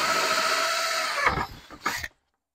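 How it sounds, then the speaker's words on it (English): A power drill bores into a plastic bucket for a quail watering system, a sustained whine for over a second, then two short bursts before stopping. "Put your drill bit on the line."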